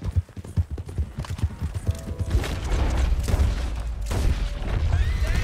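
Video-game hooves of a gray brindle Thoroughbred horse clip-clop in a rhythmic run of beats at the start, then blur into a busier, noisier wash of sound.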